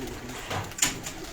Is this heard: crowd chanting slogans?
no